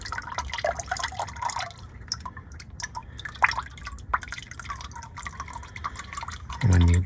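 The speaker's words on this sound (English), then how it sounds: "As you see, additional oil flowing in the oil pan." Engine oil drips and trickles into a drain pan beneath a 2017 Ford Police Interceptor Utility during an oil change, a steady close-up patter of drops with a louder low rumble near the end.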